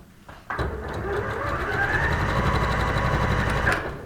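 A sewing machine runs steadily while stitching a seam on a tie bow blouse, starting abruptly after a short quiet lead-in and holding a continuous close, even whirr before easing off at the end.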